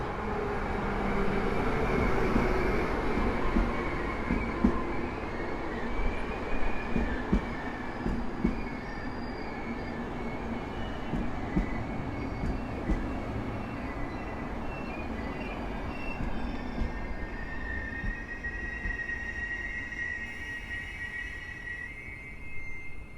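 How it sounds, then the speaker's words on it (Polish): A Czech Vectron electric locomotive hauls the Silesia passenger train into Sosnowiec station, a continuous broad rumble of rolling wagons with faint wheel squeal and rising tonal whines, close and steady throughout. "Wektron czeskie Drachi z pociągiem Silesia do Bochumina wjeżdża na stację w Sosnowcu"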